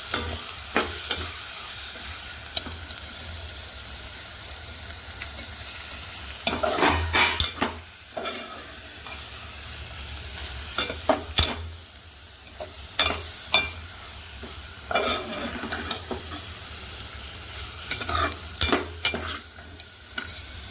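Tamarind leaf curry cooks in a pan with a soft steady sizzle, broken by repeated scraping stirs of a spoon against the pan.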